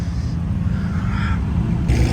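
A car at a South Florida toy rally rumbles nearby and gives a short rev of its exhaust near the end.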